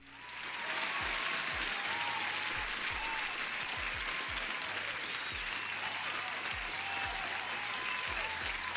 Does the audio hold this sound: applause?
yes